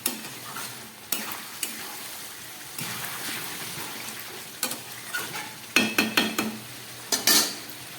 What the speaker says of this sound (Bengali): এবার ঢাকাটা খুলছি, এবার নেড়ে দিতে হবে।